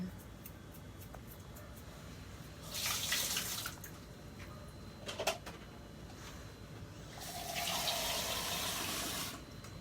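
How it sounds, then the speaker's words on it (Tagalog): Water pours into a cooking pot for chicken curry in two separate bursts, a close, bright splashing stream each time, with quieter kitchen noise between them. "Lagyan natin ng tubig."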